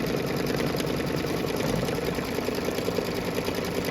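Embroidery machine stitching a fabric tack-down, a steady rapid mechanical whirring and ticking that runs continuously, close and alone without talk.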